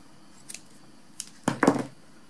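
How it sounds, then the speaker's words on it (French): Scissors snip the small loose threads of a knitted sock, a couple of faint light snips first and then a louder, closer pair of cuts near the end. "On coupera les petits fils."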